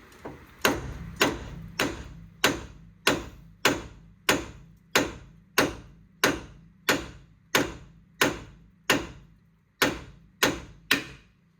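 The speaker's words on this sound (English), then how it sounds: "give it a couple good whacks with a hammer and it should be loose" A hammer strikes a car's inner tie rod joint again and again in a steady rhythm, about sixteen sharp, ringing metal blows spaced evenly apart, close by with no talking, on a Mazda 6 2.2 Skyactiv Diesel.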